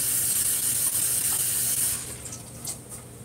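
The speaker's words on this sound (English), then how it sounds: "let me just wash my parsley." Parsley rinsing under a running tap: a close, steady hiss of flowing water that eases off and turns into lighter splashes and drips toward the end.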